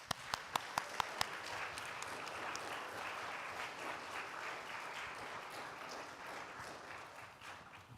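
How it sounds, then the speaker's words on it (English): Applause fills a church as a congregation welcomes people, starting with a few sharp individual claps before swelling into a steady, fairly distant wash of many hands that fades slightly at the end. "And let's welcome them with applause."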